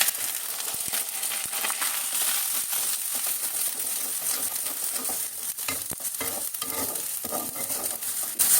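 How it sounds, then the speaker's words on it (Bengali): Onion paste frying in hot oil with whole spices and bay leaf for chicken roast, a bright continuous crackling sizzle with stirring scrapes and small clinks, close and without talk. "এখন দিয়ে দেবো পেঁয়াজ বাটা, 1/2 কাপ পেঁয়াজ বাটা।"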